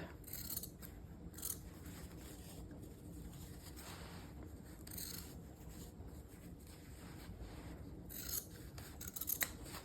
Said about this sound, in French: quand vous crantez l'arrondi, vous allez donner un peu de souplesse à la couture